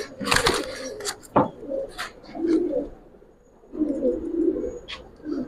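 Old-breed Giribaz and coloured fancy pigeons coo in low, rolling bursts, two distinct phrases close by, with scattered sharp clicks and rustles from the loft between them.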